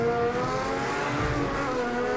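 Race car in Project CARS 2 on a Spirit of Le Mans circuit being overdriven, engine droning at a steady high pitch with a tire squeal mixed in, loud and continuous with no voices.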